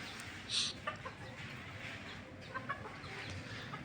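Mixed-breed chickens, including Brahma and Silkie, cluck softly in a home garden farm, with scattered short calls at a moderate distance over quiet background noise.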